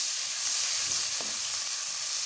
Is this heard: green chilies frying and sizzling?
yes